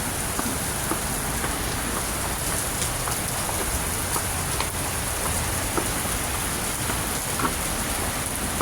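Heavy rain pours in Houston, Texas, a dense, loud, steady hiss of drops on surfaces that holds unbroken from start to finish, with no voices.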